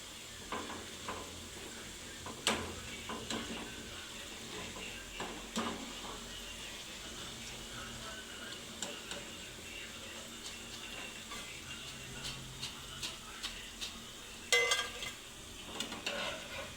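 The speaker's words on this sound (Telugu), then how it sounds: "ఇలా గోల్డెన్ బ్రౌన్ కలర్ వచ్చేంత వరకు వేయించుకోవాలన్నమాట." Pakodi deep-fry in oil until golden brown, with a soft, steady bubbling hiss and scattered light clicks and stirring taps, fairly quiet and distant-sounding.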